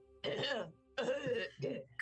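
A few harsh throat-clearing coughs in quick succession, close and fairly loud, with short pauses between bursts.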